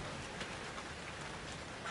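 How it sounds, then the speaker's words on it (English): Steady rain falls in a horror video game, a dense, even patter of drops on surfaces that goes on without a break, with no voices over it. "Oh, it's raining blood now."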